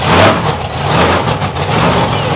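A monster truck engine roars loud and close for the whole stretch, a steady, heavy rumble with a slight surge near the start, heard with no talking.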